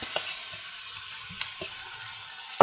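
Cabbage sizzles softly in a frying pan, with a few light stirring taps and scrapes and a sharper clatter at the end.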